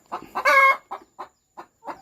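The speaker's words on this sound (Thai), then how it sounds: "ไก่น้องไข่ครับเลยร้อง แย่งกันไข่ครับ เลยร้อง" Egg-laying hens in a Thai layer coop cluck in short, close bursts, with one louder, longer squawk early on, then a steady rhythm of separate clucks.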